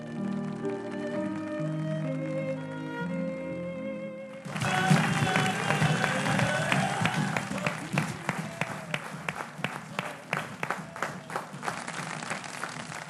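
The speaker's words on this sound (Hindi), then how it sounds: "आपके लिए बेशुमार तालियां" Soft sustained music tones fade out, then a television studio audience bursts into loud, dense applause that continues steadily, with distinct claps growing more prominent toward the end.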